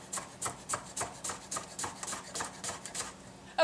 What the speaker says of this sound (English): I have all of my cucumbers diced up now